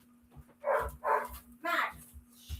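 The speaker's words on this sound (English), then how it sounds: "Can you hear the dog barking?" A pet dog barks in bursts from another room during a podcast recording, three or four loud yaps in quick succession with a steady electrical hum beneath.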